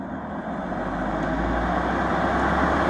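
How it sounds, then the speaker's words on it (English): An ECM blower motor powered from a transformer and drop cord runs on one speed with a steady, moderately loud hum and airy rush that builds slightly and holds evenly, with no talk. "Now that is one speed of the motor."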